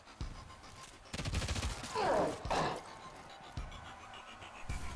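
Overwatch gunfire from the Showgunners game hits a moving enemy: a fusillade of rapid gunshots in clustered bursts, with sharp impacts and a swelling whoosh in the middle, over faint game ambience.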